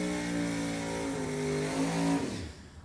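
A 2014 TNT dragster with a Chevy 622 engine, sponsored by K&N and Mickey Thompson, holds a loud steady roar at a drag race, the pitch climbing before the engine cuts and the sound falls away.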